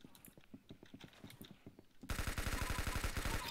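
Rapid gunfire from the Arsenal shooter game, with sparse clicking shots at first that break into a loud, dense automatic burst lasting several seconds.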